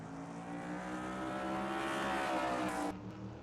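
NASCAR-style race cars in NR2003 at Martinsville drone past at high revs, with a steady loud engine roar and whine that builds slightly and then cuts off near the end.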